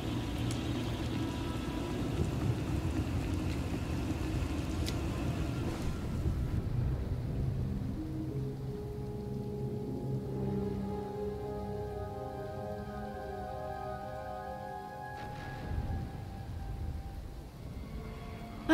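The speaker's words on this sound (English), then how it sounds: "Hard to track them through the storm." A rain and thunder storm in the Star Wars: The Old Republic video game: a dense, loud downpour hiss with low rumbling, then the rain thins while a sustained tonal music-like drone rises, with no voices.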